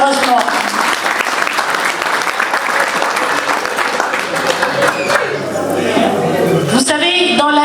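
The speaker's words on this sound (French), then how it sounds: "que nous vous prions d'applaudir très chaleureusement." Sustained, dense audience applause fills an association's board installation ceremony in Paris, loud and steady before tapering slightly near the end.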